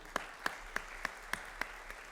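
At a high school honors banquet, faint, evenly spaced claps ring out about three times a second, a thin, distant patter of applause in a large room.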